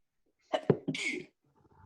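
One sharp, close sneeze at a township council meeting, with a quick inhaled catch and an explosive hissing burst, followed by near silence.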